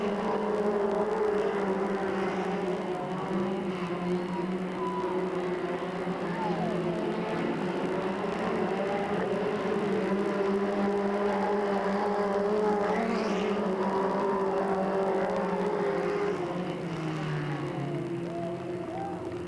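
Stock cars race around the Delta Speedway oval in 1997, a dense, continuous engine roar with pitch sweeping up and down as cars pass, heard from a distance, with faint voices mixed beneath.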